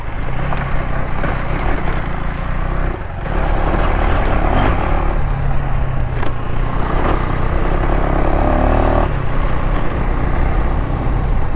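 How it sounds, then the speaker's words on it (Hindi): A 2025 KTM Enduro R 390 motorcycle engine drones loud and steady while being ridden. The pitch rises and falls with gear shifts, and a brief dip comes around the third second. "इसे कहते हैं फन टू राइड मोटरसाइकिल भाई साहब,"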